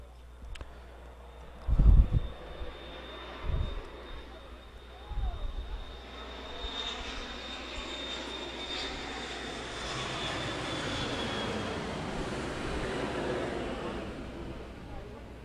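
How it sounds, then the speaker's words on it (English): A few low thumps, then a low-flying Air Canada passenger jet approaching Regina Airport roars overhead, building and swelling with a thin high whine, loud and sustained before slowly easing. "Big Air Canada flight coming into Regina Airport."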